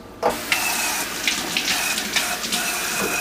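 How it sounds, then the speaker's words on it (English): A kitchen tap runs steadily to rinse food while making lasagna, starting abruptly with a splashy gush and continuing as a close, constant stream with small splatter variations as the food passes under it. "We're gonna give it a quick rinse."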